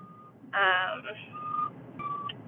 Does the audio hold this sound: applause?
no